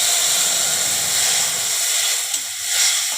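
Boiled chana dal going into a hot pan with cumin and coriander powder, giving a loud broad hiss of steam and sizzling that holds steady, then eases slightly near the end.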